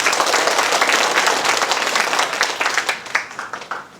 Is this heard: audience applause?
yes